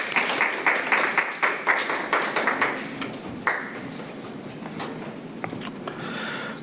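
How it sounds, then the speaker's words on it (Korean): An audience at an academic theology conference claps to welcome a speaker, starting with a burst of distinct hand claps that thin out into scattered, fading applause. "박수로 맞아주시면 감사하겠습니다"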